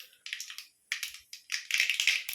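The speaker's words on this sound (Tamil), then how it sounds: "கடுகு நல்லா பொரிஞ்சிருச்சு" Mustard seeds pop and splutter in hot oil as tempering for vangi bhaat, a quick series of close, sharp crackles in uneven bursts that grow denser toward the end.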